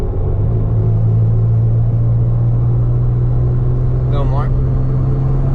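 Car engine tuned with Megasquirt, running steadily at light throttle as a deep constant rumble and hum from inside the vehicle, with someone speaking briefly over it near the end.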